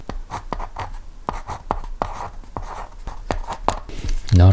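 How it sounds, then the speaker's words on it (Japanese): Mechanical pencil tip tapping and scratching across paper in a steady run of crisp strokes and taps, close and fairly loud, with a firmly held lead giving a clicky, tactile sound; no talking. "書いてる時にしっかりと先端が固定されているので、結構コツコツとしたね、書き心地を楽しめますね"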